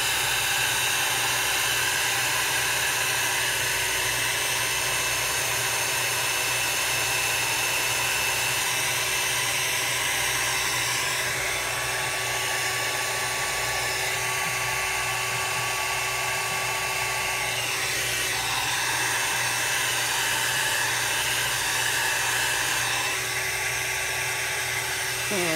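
A hair dryer blows steadily at close range, a loud, high-pitched whirring hum that holds constant throughout.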